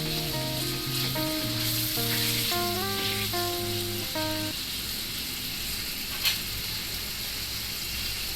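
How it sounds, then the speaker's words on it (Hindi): Cholistani chicken karahi, Karachi street-food style, sizzles steadily in a hot pan, with a soft melody playing over the frying early on before it sizzles on alone. "तो इसकी हम करते हैं अच्छे से भुनाई।"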